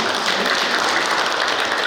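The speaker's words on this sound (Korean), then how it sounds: "큰 박수로 환영합니다" A crowd at a photography awards ceremony and exhibition applauds to welcome a speaker, a loud, dense, continuous burst of clapping throughout.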